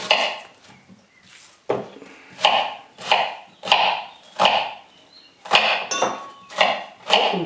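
Knife chopping onions and other vegetables finely on a board while preparing a mussel dish, about a dozen sharp, evenly spaced chops, close and fairly loud, with no talking.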